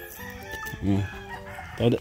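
A chicken clucks twice, short throaty calls close by against a quiet background.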